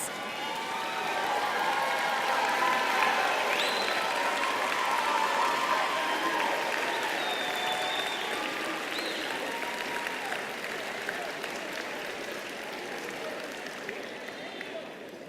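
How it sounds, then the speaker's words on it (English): Audience at a university College of Social Work winter commencement ceremony giving sustained applause for their supporters, dense and continuous for about fifteen seconds, with voices and a few cheers mixed in before it slowly tapers. "give them a round of applause"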